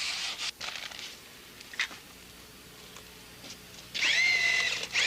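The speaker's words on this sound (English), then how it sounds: "Mix thoroughly with a low RPM motor, adding up to 1 quart of water to achieve the desired consistency." A low-RPM drill motor mixing cement with acrylic texture coat and water, whirring in short bursts with a longer steady run near the end, close and fairly loud, with gritty churning between bursts.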